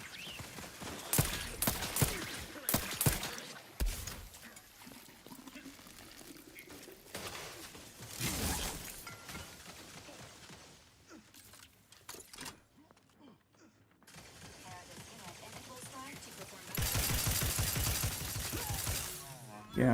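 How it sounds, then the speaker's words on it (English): Chain spark cannon firing in a sci-fi space video game, with crackling electric bursts and sharp bangs coming in uneven clusters amid loud combat noise, and someone talking at points. "Chain spark cannon. That sounds real nice."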